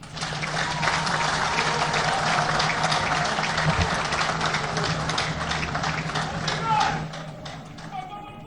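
Audience applause at a governors' conference opened by the President of the DR Congo, a dense steady wash of clapping from a large hall that runs the whole time, with a few voices and murmurs mixed in.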